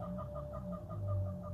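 Chickens in a backyard run at the end of a garden greenhouse, giving a steady series of short, repeated clucks over a low background hum, fairly close and with no talk.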